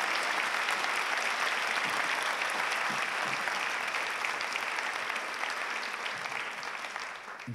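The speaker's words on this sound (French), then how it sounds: "Donc je vous demande de l'applaudir s'il vous plaît une deuxième fois." An audience applauds the writer Jonathan Coe at a public interview event, a dense, steady wash of clapping that holds for several seconds and then thins slightly toward the end.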